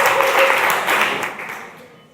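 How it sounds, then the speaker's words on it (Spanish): A church congregation applauds, a dense burst of many hands clapping that is loud at first, then thins and fades away toward the end. "Dele un aplauso al Señor"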